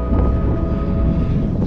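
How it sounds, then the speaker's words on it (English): Strong, cold wind at a summit camp beside a tent at sunset buffets the microphone in a loud, continuous roar with low rumbling gusts. "It's got pretty cold and windy"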